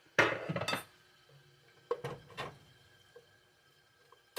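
Butter being stirred into spaghetti in a pot, with a few clinking, scraping strokes of a utensil against the metal near the start and again midway, separated by quiet pauses; no talking.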